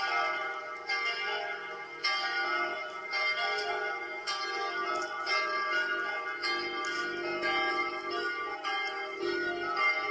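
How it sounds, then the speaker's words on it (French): Three cathedral church bells in the Block Craft 3D game swing in full peal, a dense continuous clangour of overlapping strikes at steady volume, with no voices. "ce sont des cloches qui sonnent à la volée, qui possèdent aussi des tintements"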